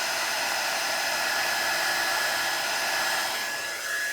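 A heat embossing tool blows hot air onto card in a steady, unbroken whir of rushing air, close and constant with no pauses.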